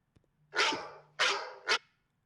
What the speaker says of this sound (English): that was a dog with a sore throat.